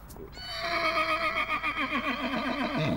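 A horse neighs in a long, loud whinny with wavering pitch that runs for about three seconds, heard alone on an alpine country estate.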